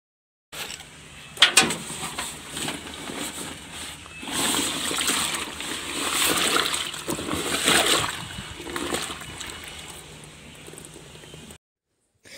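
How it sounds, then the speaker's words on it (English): Water splashes and sloshes while a dusty school bag is washed, starting with a sharp splash and continuing as irregular bursts of splattering and running water, fairly close, with no voices. "So I am going to wash my bag."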